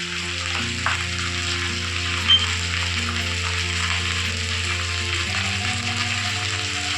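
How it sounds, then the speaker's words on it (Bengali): Pointed gourd peels with chillies, salt and turmeric frying in oil, a continuous moderate sizzle under a steady low mechanical hum, with one brief clink and no speech. "দিয়ে এবার এটাকে একটু ভালো করে ভেজে নেব"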